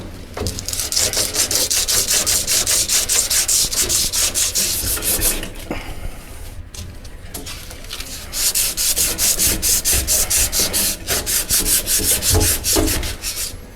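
Emery cloth sands a fiberglass pipe in long, steady back-and-forth strokes, a loud close rasping scrape that pauses briefly near the middle and then resumes in an even rhythm, with no talking.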